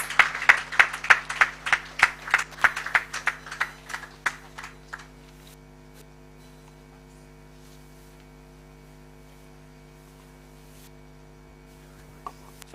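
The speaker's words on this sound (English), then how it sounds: "Can we give him a round of applause?" Audience applause at an International Day of Persons with Disabilities event welcoming a chairman, dense clapping for about five seconds that fades out, leaving a steady electrical hum with faint taps.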